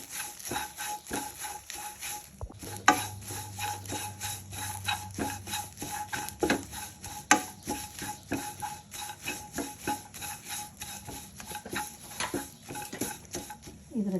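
Curry leaves crackling and spattering in a hot pan for chutney powder, with a utensil scraping and rubbing steadily against the metal, close and moderately loud.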